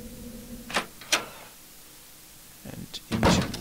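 In the Scratches video game, a manor's front door is unlocked and opened: two sharp key clicks, a short pause, then a louder creak and thud as the door swings.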